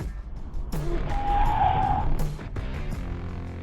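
A car's brakes are slammed after it runs a red light in North Carolina, and its tires give a sharp, one-second squeal as it narrowly avoids a Porsche. Traffic rumble surrounds the skid, with engine noise before and after.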